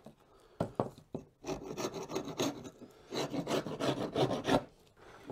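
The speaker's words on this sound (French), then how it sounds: "Et ensuite, on gratte sur le profil, la cire qui reste sur le profil." Leftover beeswax is scraped off the profile of an old wooden beehive frame bar, giving close, rasping strokes in uneven bursts with brief pauses between them.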